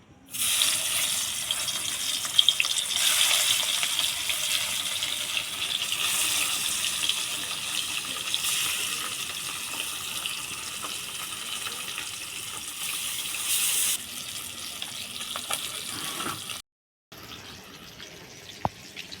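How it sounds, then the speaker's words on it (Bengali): Bata fish frying in hot mustard oil in a kadai makes a continuous broad hiss that holds steady for most of the stretch. It cuts off briefly near the end, then resumes. "কড়াই তেল দুটোই গরম হয়ে গেছে মাছ ছেড়ে দিব এবার"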